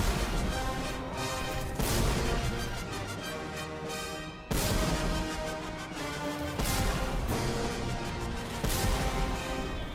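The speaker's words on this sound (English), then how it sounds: "Explosion." The Explosion spell effect from the Konosuba anime roars as a loud, sustained blast with crashing, rumbling bursts that swell and renew several times over ten seconds, with no voices.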